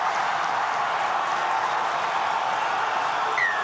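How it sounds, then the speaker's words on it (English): A rugby league match crowd, a steady broad roar of cheering spectators filling the whole stretch, loud and sustained without breaks. "Listen to the crowd."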